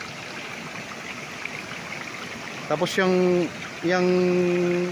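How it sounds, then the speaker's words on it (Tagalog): Water falls steadily from a concrete irrigation channel beside a river, a continuous rushing wash heard at a moderate distance beneath a voice, which cuts in twice near the end. "sementadong yan na may mga bumabagsak na tubig, yan po ay irrigation naman"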